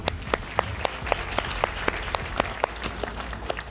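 Audience in a seminar hall clapping in unison, a steady rhythmic beat of sharp claps about four per second over a noisy room.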